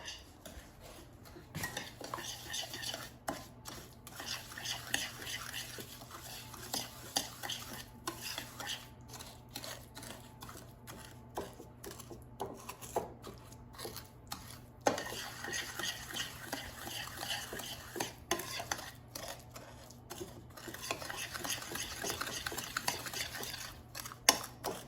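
Melted butter being mixed with white and brown sugar in a bowl for cherry cookies, a steady scraping and clinking of a utensil against the dish for the whole stretch, close and fairly quiet, with no talking.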